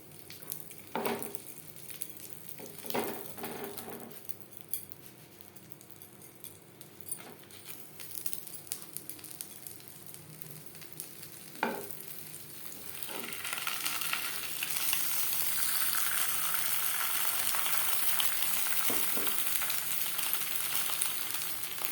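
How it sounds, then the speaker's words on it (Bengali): Vegetarian jackfruit paturi frying in a spoonful of mustard oil in a frying pan: a soft, steady sizzle with occasional scrapes and taps, swelling into a louder, continuous hiss after the parcels settle in. "পাতুরি ভাজবার জন্য ফ্রাই প্যানে দিয়ে দিয়েছি এক চামচ সর্ষার তেল এবার দিয়ে দেবো পাতুরি"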